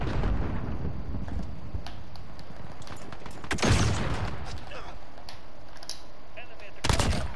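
Gunfire in the Call of Duty Modern Warfare video game, with sharp loud shots cracking out at intervals over a continuous rumbling wash of game noise.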